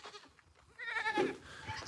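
Several farm goats bleat in quick, wavering cries, a quieter call first and then a louder, closer bleat, with no talking over them.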